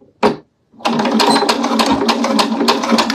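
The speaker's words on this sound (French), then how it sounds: "C'est une couture au point droit, tranquillement." Sewing machine running a straight stitch, one short burst and a pause, then a close, loud, continuous rapid mechanical chatter of stitching with no talk.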